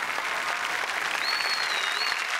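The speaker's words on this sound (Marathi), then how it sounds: "शर्वरी जेमिनीसाठी जोरदार टाळ्या" Steady, loud applause from a studio audience welcomes a Kathak dancer on a Marathi comedy show stage, continuous clapping with a faint crowd murmur and no pauses.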